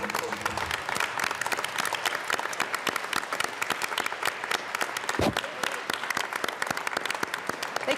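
Legislators in the Colorado House chamber applaud rural school district representatives, a steady dense clapping from a large room that runs the whole time with a brief low thump partway through.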